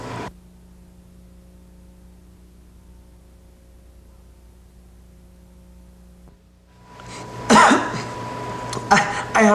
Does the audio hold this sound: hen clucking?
no